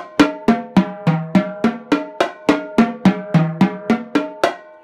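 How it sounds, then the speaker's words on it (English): A marching bass drum line plays a run across tuned drums from high to low and back to high, with about sixteen evenly spaced, booming strokes, loud and close. "So a bass drum run in exercise number 1, for example, right, we go high to low to high, would sound something like this."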